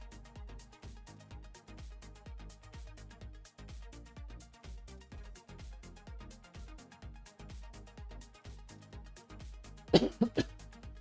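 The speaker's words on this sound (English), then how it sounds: "Coughing as well for some reason now." A few quick coughs break in near the end, close and sharp, over quiet rhythmic background music.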